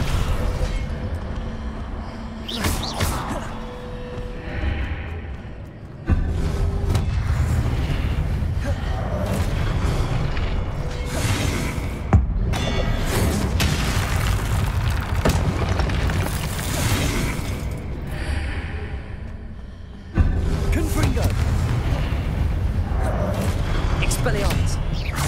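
Confringo and Descendo spells blast through a Hogwarts Legacy fight as repeated booming impacts and bursts over a dense, continuous game soundtrack, loud and close, with talk running over the action.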